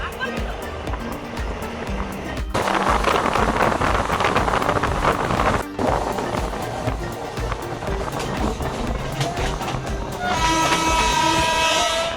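A Haldibari Express train pulls into Rampurhat station, a loud, continuous rumble of wheels and carriages with rising clatter and a brief high horn-like tone near the end, with voices mixed in.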